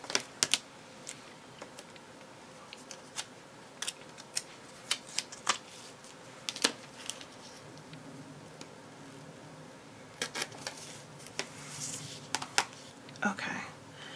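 Soft, irregular keystrokes on a computer keyboard tap out a short quote, scattered clicks in small bursts over a quiet room tone, fairly close and faint.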